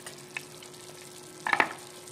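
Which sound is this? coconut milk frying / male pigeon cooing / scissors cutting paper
coconut milk frying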